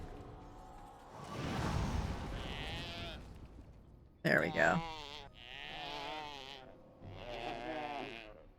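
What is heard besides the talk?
sheep bleating in video game Dragon Age: Origins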